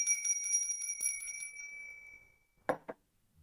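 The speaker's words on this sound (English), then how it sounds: "on behalf of the London Stock Exchange, whether they like it or not, we are going to open this bell in 2 seconds" A handbell rings rapidly at the London Stock Exchange opening, bright clanging strokes repeating for about two seconds before fading, followed by a couple of louder knocks and handling noises.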